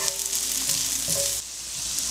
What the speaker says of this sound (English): Saute them for about 2 to 3 minutes so they become translucent.